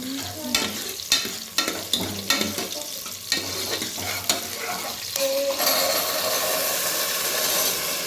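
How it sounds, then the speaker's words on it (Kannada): Field beans (avarekalu) frying with onion in hot oil for a masala sambar, a steady close sizzle broken by repeated sharp stirring scrapes early on, then settling into a louder continuous hiss. "ಫ್ರೈ ಮಾಡಿಕೊಂಡು ಅವರೆಕಾಳು ಹಾಕಿ ಫ್ರೈ ಮಾಡ್ಕೋಬೇಕು"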